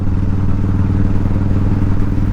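A Harley-Davidson FXDX motorcycle being ridden, its engine producing a loud, steady, low rumbling drone close by without pause and with no voices over it.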